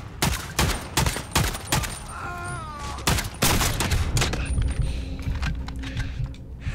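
Gunfire in the video game Modern Warfare: rapid bursts of loud, close shots in quick succession, clustered in fast volleys with brief gaps, over a steady background of game noise.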